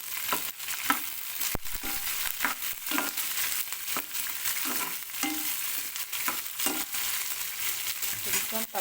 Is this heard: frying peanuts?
yes